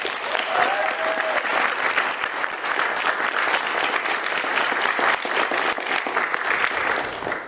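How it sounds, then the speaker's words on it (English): An audience at an evening event claps in sustained, dense applause that holds steady and fairly loud throughout, with a faint brief tone near the start. "So give them a big round of applause."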